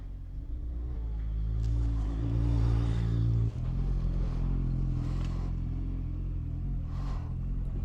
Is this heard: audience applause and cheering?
no